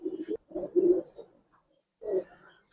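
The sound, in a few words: Giribaz pigeons cooing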